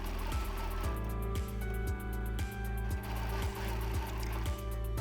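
A sewing machine quilts a 2-inch circle along a ruler template on fabric, its motor whirring steadily with quick, regular stitching thumps, close and clear with no talking.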